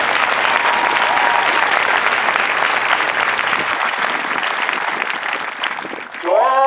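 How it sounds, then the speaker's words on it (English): Loud crowd applause from families and friends at an Air Force basic military training parade, a thick steady wash of clapping that gradually tapers before a voice breaks in at the very end. "a round of applause for your"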